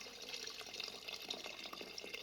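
Water being poured into a pressure cooker holding mutton and turnips for a Pakistani shaljam gosht, a soft steady splashing and trickling heard faintly and continuously throughout.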